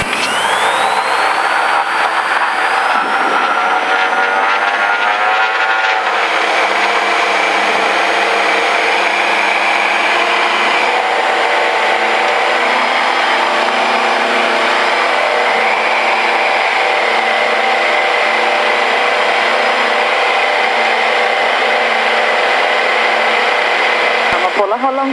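A Diamond DA42 twin-engine aircraft takes off with a loud, steady, rising engine drone heard from inside the cabin, and people talk over the constant roar.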